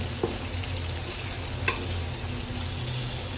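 Beef sizzling and frying as it is stir-fried (kosha) in a pan, a steady low crackle with a couple of brief stirring knocks, close and fairly quiet, no talking.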